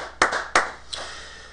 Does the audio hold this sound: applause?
yes